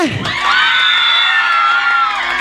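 An audience at a campaign stage event in Morigaon, Assam, cheers and whoops loudly, with a sustained high whistling tone running through the crowd noise and no distinct clapping.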